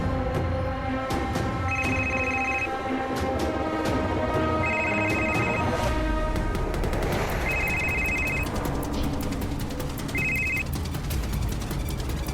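A mobile phone rings in repeated bursts of electronic tones over a busy, dramatic background score in an indoor crime-drama scene.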